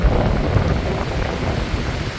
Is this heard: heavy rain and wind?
yes